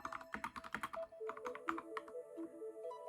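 Typing on a computer keyboard, a quick burst of sharp clicking keystrokes followed by sparser, irregular taps, close and clear with no voices.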